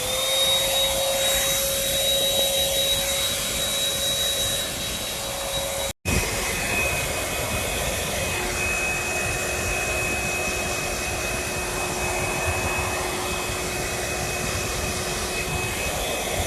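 A handheld hair dryer runs steadily on its medium setting during a hair spa treatment, a loud continuous whoosh with a faint tonal whine, briefly cut off once before resuming at a slightly different pitch.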